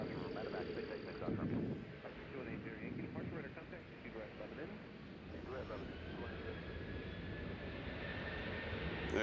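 An Amazon cargo plane passes over Nashville airport, a broad engine rumble rising under a voice and radio chatter, then continuing steadily with a thin whine.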